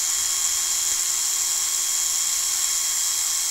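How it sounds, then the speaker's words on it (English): An electric drill spins an Omron differential encoder at steady speed, producing a continuous high-pitched whine with a constant tone and no variation over the few seconds. "The drill is turning the encoder as I'm facing the encoder in the clockwise direction."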